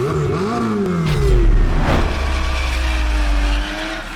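A 2025 Ram TRX with the Hurricane engine, loud and close, revving up with a rising roar, then holding a deep, droning exhaust note that eases off near the end.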